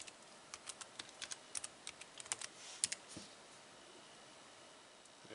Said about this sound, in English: let's go to a website to test out the keyboard